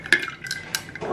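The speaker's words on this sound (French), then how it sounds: "Et ensuite je rajoute ma paille que j'ai lavée hein, bien sûr. Et je mélange doucement" A straw gently stirring iced bubble tea in a cup, giving several light clinks and rattles of ice against the sides in an uneven rhythm, close and clear with no talking.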